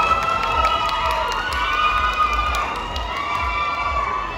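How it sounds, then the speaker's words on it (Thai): Fans at a live stage event cheer and scream with a dense, continuous crowd roar, high shrieks and clapping blending loudly throughout. "ขอเสียงปรบมือให้กับคุณหมอโออีกครั้งนึงครับ"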